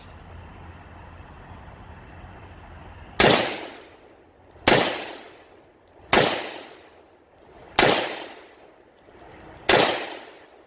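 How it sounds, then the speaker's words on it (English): Five loud, sharp AK rifle shots fitted with an FH4 flash hider crack out at steady intervals of about one and a half seconds, each blast decaying quickly into quiet, after a stretch of low background hum. "Okay, we've got the flash hider on. Take 5 more shots."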